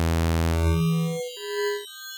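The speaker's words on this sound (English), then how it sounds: "it just randomizes the amplitudes of the frequencies in the wavetable, and you get just really dissonant," Dissonant synth tones from a Vital wavetable with randomized frequency amplitudes and harmonic squeeze shaping, a dense buzzing chord giving way to a couple of thinner, glassy sustained tones, alone and fairly loud.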